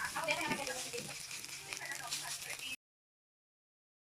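Leftover adobo rice sizzles as it fries and is stirred in a pan, with a steady crackle and light scraping for under three seconds before cutting to silence.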